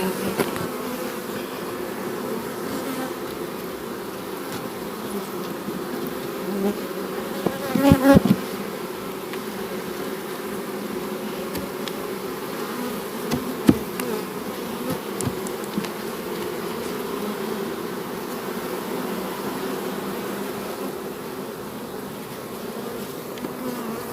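Honey bees hum in a thick, steady swarm around hives during beekeeping in Jamaica, a close continuous buzz with occasional louder passes and faint knocks of frames being handled.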